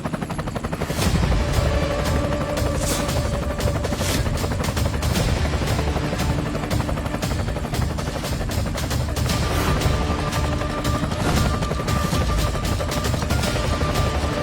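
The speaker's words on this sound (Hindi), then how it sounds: "अरे ये तो करोड़ों का हेलीकॉप्टर है" A helicopter's rotor thumps steadily and loudly for the whole stretch, with sharp cracking bursts mixed in and no talking.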